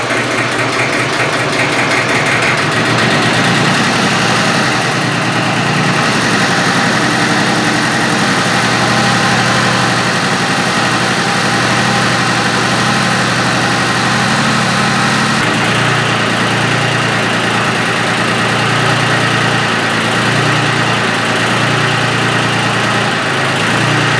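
A Buick 470 engine with a rough, uneven idle drones loudly and continuously at close range, its vibrating low hum carrying slight irregular shifts in tone throughout, with no talk.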